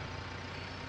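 A truck in Farming Simulator 19 drives with a low, steady engine drone and road rumble, close and alone, with no talk.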